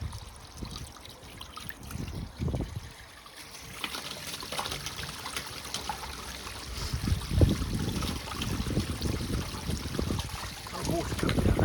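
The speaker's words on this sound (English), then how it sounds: "Water coming down there." Water trickles steadily down into a flat rain hopper while pebbles are being cleared, a continuous close splashing dribble that swells a little louder toward the end.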